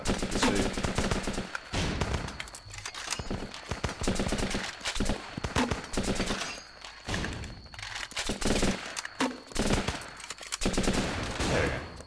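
Rifle gunfire in the war game Running with Rifles, loud repeated bursts of shots and automatic fire crackling almost continuously, with brief pauses between volleys.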